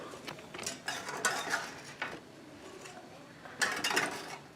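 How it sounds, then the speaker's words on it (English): Meatballs drop into a thickened French onion sauce in a pan and get stirred, giving soft scraping and clinking of a utensil against the pan in quick, uneven strokes at close range. "putting the meatballs in there, stirring them around a bit."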